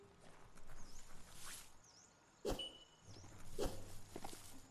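A horse-like steed moving in the video game Biomutant: a couple of soft hoof thuds with light whooshing motion sounds, quiet and fairly close, no voices.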